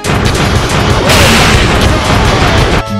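A loud, booming cannon blast from Kirby's Return to Dream Land, with dense rumbling noise that fills the whole stretch and cuts off abruptly at the end.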